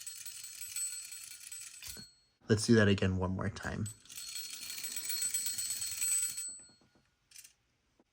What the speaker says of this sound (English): it freaking rings the bell as he's rolling